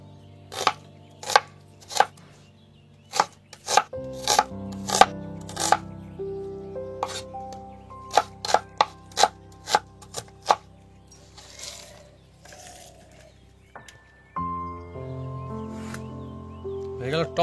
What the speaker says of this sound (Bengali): হয়ে গেল টমেটো কাটিং